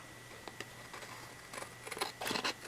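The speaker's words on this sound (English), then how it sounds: "let's cut this off" Scissors snip off a piece of material during a paper craft project, a few quiet separate cuts that come closer together toward the end, heard alone in a quiet room.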